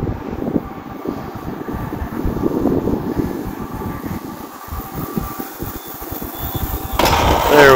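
An FMS Pitts V2 1400mm RC airplane comes in to land on a sunny day, a steady buzzing motor drone with low rumbling that swells louder near the end.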